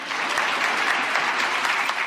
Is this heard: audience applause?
yes